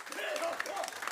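Audience members clap to vote for a contestant in a debate face-off at a live event, a brief burst of clapping heard alongside voices.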